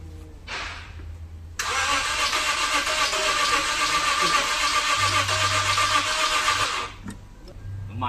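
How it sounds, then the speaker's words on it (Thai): A Lexus IS250 car engine cranks and catches after repair work, roaring into a steady, loud run for several seconds before dropping back to a quieter idle. "นี่ลองสตาร์ทครั้งแรกนะครับ ประกอบเสร็จทุกอย่างนะ เราสตาร์ทติดไหม"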